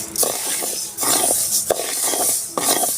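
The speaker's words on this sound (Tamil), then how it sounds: "நல்லா வந்து கிண்டி விட்டு இருங்க" Pearl millet being stirred while it roasts in a pan, a utensil scraping in repeated strokes with metallic clinks, close and fairly loud.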